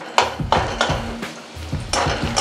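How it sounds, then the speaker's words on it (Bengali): Chopped garlic fries in a pan with steady sizzling, broken by repeated rhythmic scrapes and stirring clatter from a utensil, heard up close with no voices. "একটু ভাজা ভাজা হয়ে গেল রসুন কুচি"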